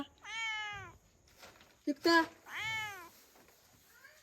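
A cat meows twice, close and clear, with a brief spoken word and a couple of soft clicks between the calls.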